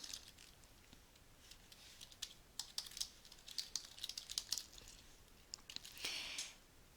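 An email address is typed on a computer keyboard: quiet, irregular runs of light key clicks with brief pauses, close and alone.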